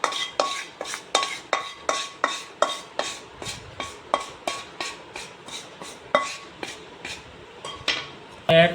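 Roasted fine semolina and grated coconut being stirred together in a metal dish for a Telugu sweet, a spoon scraping and clinking against the vessel in a steady run of sharp, close strikes.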